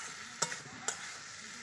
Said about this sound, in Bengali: এবার আমি টমেটো দিয়ে দিচ্ছি। আমার এখানে ভালো করে কষানো হয়ে গেছে